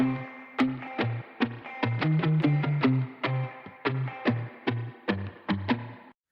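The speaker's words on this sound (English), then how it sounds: "spring reverbed out octave stabs that sound like this." Short, punchy electric guitar octave stabs in a syncopated rhythm, each splashing into a drippy spring reverb tail, close and clear.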